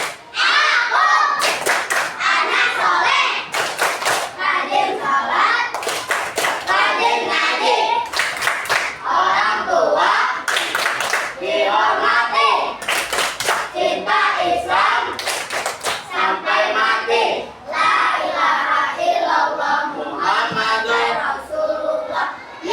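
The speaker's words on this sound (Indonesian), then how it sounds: "Tepuk anak soleh." Children chant the rhythmic tepuk anak soleh clapping routine in a school classroom, with loud synchronized claps punctuating steady group chanting throughout.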